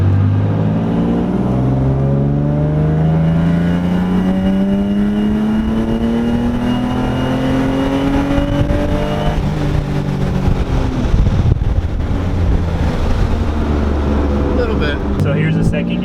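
Nissan G35 pulling hard through second gear, engine note climbing steadily in pitch as it accelerates, loud and close with a brief shift near the end; people talk over the engine.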